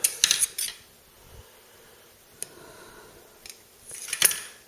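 Metal steak knives clatter and clink as they are handled in a knife-sharpening setup, with a cluster of sharp bright clicks at the start, a lone tap midway, and another burst of jangling near the end.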